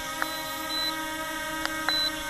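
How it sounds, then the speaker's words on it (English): A Holystone HS360D drone hovering outdoors gives a few soft, brief electronic beeps over its steady motor whine, with no talking. "The beeping sound is very soft."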